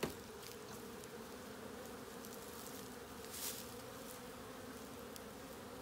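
A dense swarm of bees hums steadily up close at an opened top bar hive, a constant droning buzz with occasional louder passes of individual insects.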